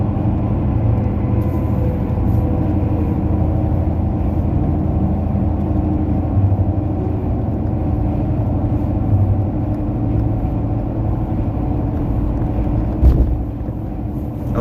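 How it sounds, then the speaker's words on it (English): Car driving through downtown Kansas City, a steady low engine and road hum heard from inside the vehicle, constant throughout with a brief thump near the end. "I just drive through downtown Kansas City."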